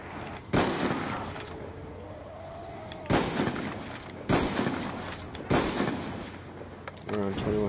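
M14 rifle shots in a zombies survival video game: four loud, separate cracks spaced a second or so apart, each with a short ringing tail, over steady game ambience.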